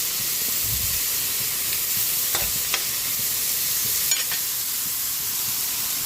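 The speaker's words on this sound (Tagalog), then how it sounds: "Nagisa na po yung giniling." Frozen ground pork sautés with tomatoes in a pan, giving a loud, constant close-up sizzle and hiss, with a few faint scrapes and knocks of the stirring utensil and no talk.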